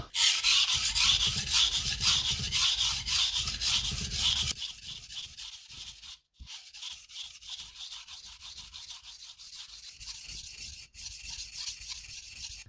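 A Japanese gyuto knife is drawn across a wet whetstone in steady, rhythmic rasping strokes, close and continuous, growing lighter partway through after a brief pause, with no talking.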